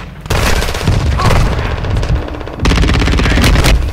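Loud, sustained automatic gunfire from the Warzone video game, dense overlapping bursts with a brief softer stretch midway before the shooting surges again, with no talking.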